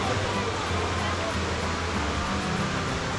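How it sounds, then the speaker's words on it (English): Water rushing steadily over rocks at a hiking stream crossing on Makamakaole Stream, a continuous close, broadband wash with no breaks. "So this is stream crossing number 6."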